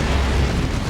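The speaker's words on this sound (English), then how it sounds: "Now getting some good clean shots in on the Great Unclean One with 2 Leman Russes." Leman Russ tanks fire on the Great Unclean One in a Dawn of War 2 3v3 battle: a loud, dense, low rumbling blast that fills the whole moment without a pause, with no voices.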